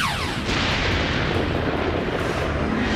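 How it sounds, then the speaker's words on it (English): Cartoon air torpedoes from a spaceship launch with a descending whoosh and burst into a sustained, loud rumbling explosion that fills the whole stretch, with no talk over it. "Firing air torpedoes!"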